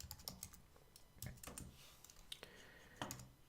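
Computer keyboard keys pressed in quick, irregular bursts of crisp clicks, close and quiet, with no voice over them.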